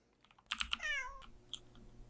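Synthetic cat meows in a short burst, a few quick high chirps and then a rising, wavering meow, close and clear over a quiet background.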